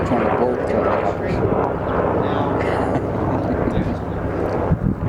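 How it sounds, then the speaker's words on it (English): A Border Patrol helicopter passes overhead with a continuous loud rotor and engine roar that stays strong throughout, rough with wind buffeting on the microphone. "That's a Homeland Security helicopter. It's one of the Border Patrol helicopters."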